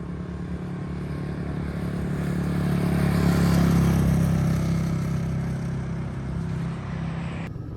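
A Royal Enfield Meteor 350 motorcycle ridden with a passenger through town streets, its single-cylinder engine a steady low drone that swells and eases under continuous wind rush.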